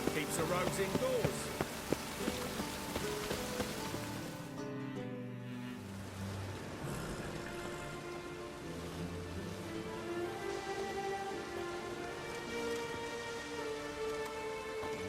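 Steady rainfall in a fantasy video game world, a soft continuous patter that runs throughout beneath a soundtrack and characters talking.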